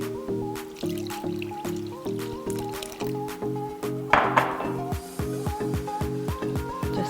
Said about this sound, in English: Let's add more water.